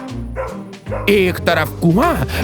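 A dog barks beyond a wall in a rural orchard setting, short yips and bow-wows sounding under a storyteller's voice and musical narration.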